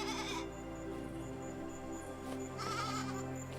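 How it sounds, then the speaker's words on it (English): Sheep bleat in a meadow in the video game AER: Memories of Old, a few bleats standing out over steady game music and ambience at moderate level, with no talking. "these are in fact sheep. They sound like sheep"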